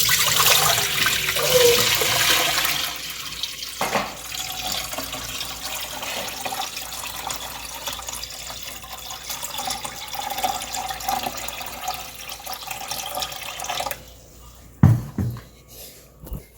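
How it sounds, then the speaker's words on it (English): Water from a bowl of rice is poured into a pot in a kitchen sink, a gushing, splashing stream that is loud at first and then trails off into quieter dribbles, with a few sharp clanks near the end. "I'm about to pour this water into the pot."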